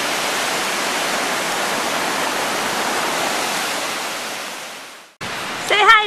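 Ocean surf washing ashore at the beach beside Oceanside Pier, the longest wooden pier on the West Coast, a steady loud roar of breaking waves for about five seconds before cutting off to quieter ambience.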